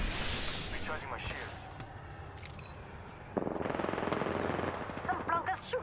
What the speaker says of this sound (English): Some bloggers shooting at me